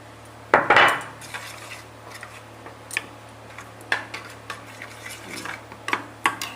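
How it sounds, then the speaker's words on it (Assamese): Spices mixed with a little water in a bowl, stirred with a metal spoon: a sharp clink at the start, then scattered light taps and scrapes at uneven intervals, close and fairly quiet. "অকণমান পানীৰে সৈতে মছলাখিনি ঠিক এনেধৰণে মিলাই ল'ম"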